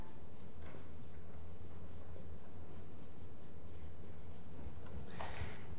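Chalk or marker scratches across a board during a finance lecture, a series of short, rhythmic strokes with a brief louder swipe near the end, heard alone against faint room noise.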